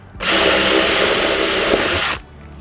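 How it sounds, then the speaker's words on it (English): Power drill boring holes in the extension pieces of a wooden bat box, a single loud close whine lasting about two seconds, starting and stopping abruptly with nothing else heard. "The one last job is to drill a couple of holes in the extension pieces."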